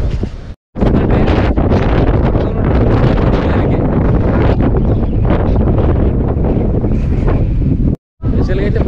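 Strong wind roars near the Taj Mahal, a loud, continuous buffeting rush across the microphone that breaks off briefly twice, while someone talks over it.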